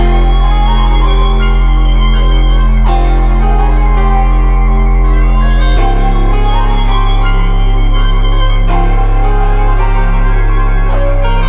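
A sampled electric guitar loop plays alone, sustained chords shifting every few seconds with a steady low bass underneath, loud and full.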